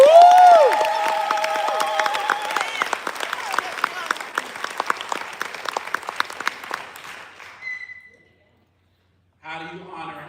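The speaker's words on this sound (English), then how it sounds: "Give yourselves a round of applause." A crowd at a homegoing ceremony bursts into loud, dense applause with a few cheers, the clapping holding steady before tapering off into silence, after which a voice briefly speaks.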